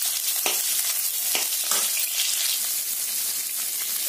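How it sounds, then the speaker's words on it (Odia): Onions frying in a pan with cloves and black pepper for an Odia cauliflower masala, a steady broadband sizzle close up with a few brief stirring clatters and no talk. "ପିଆଜକୁ ଟିକେ ଆମେ ଭାଜିନେବା।"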